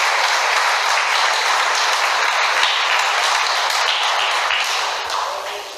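Sustained audience applause at a church gathering, a dense steady wash of many hands clapping that holds loud and even, then begins to taper in the final second.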